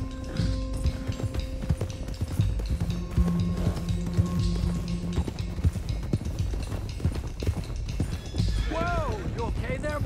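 Horses galloping in Red Dead Redemption 2, with rapid rhythmic hoofbeats thudding continuously close by and a whinny near the end, mixed with game music and a voice talking.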